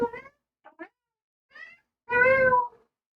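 A male cat meows several times, short chirping calls followed by one longer, louder meow, close by in a quiet room.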